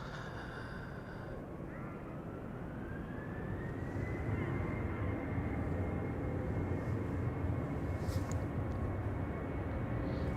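A KLM passenger jet departing Amsterdam Schiphol for Düsseldorf produces a loud, steady engine roar that swells as it climbs, with a rising whine over it. The roar dominates the outdoor scene.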